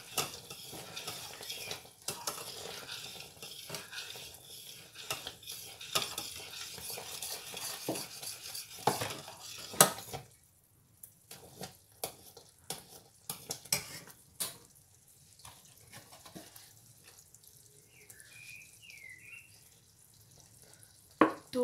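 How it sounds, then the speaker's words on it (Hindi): A metal spoon stirs kulfa mix in a pot on the stove, giving repeated scraping and clinking sounds close by, with denser activity in the first half and scattered clinks and soft sizzle afterward; no voices. "कुल्फ़ा मिक्स के चमचा चलाते हुए मिलाएं"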